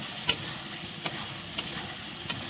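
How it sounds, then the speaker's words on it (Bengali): A thick paste of ground melon seeds and poppy seeds being stirred through potatoes in a frying pan, with a steady soft sizzle broken by four sharp spatula scrapes at regular intervals, close and fairly quiet. "এখন এই মগজ দানা পোস্ত দানার পেস্টটা এর মধ্যে আলুর মধ্যে দিয়ে দিলাম দিয়ে এখন ভালো করে নেড়ে নিচ্ছি"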